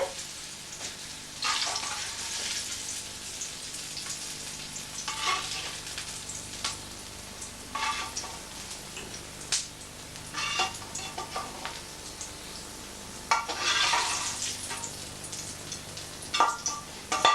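Onions frying in a pan with a steady, fairly quiet sizzle, broken by several louder bursts of crackle and spatter as they are moved around, heard alone without talk.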